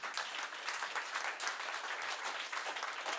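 A church congregation at a worship service claps steadily in praise, a soft, even wash of many hands clapping together without pause, somewhat distant and low in level.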